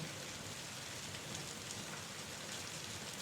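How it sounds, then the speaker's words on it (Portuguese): Steady rain falling, an even dense patter of drops heard alone and softly throughout, with no voices. "Se você está gostando dessa atmosfera sombria ao som da chuva"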